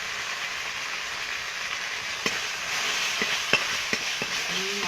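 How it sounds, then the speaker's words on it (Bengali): A spice paste for a pangas fish curry sautés in a pan with a constant soft sizzle, punctuated by a few sharp clicks and scrapes of stirring in the second half. "মশলাটা আর একটু কষিয়ে নেব"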